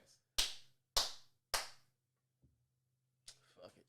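Three sharp, loud hand claps ring out at an even pace indoors, followed by a faint tap and a brief stretch of talk.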